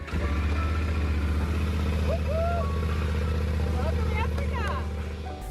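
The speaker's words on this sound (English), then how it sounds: "It's great to roll the bikes out of the container and start up the engines again." Motorcycles being started and idling after coming out of a shipping container at the start of an overland ride, a steady loud engine rumble throughout with brief higher tones and chirps mixed in.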